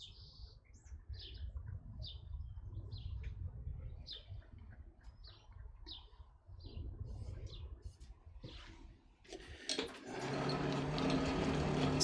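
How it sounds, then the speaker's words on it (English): A hand-cranked blower feeds a coal forge in a smithy, giving a steady low whirring rumble that swells loudly near the end, while birds chirp faintly in the background. "Standing here just turning a crank"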